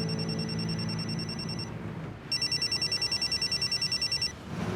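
A telephone rings loudly with a bright electronic trill, in a long burst, a short pause, then another rapid pulsing run of rings. No voices are heard.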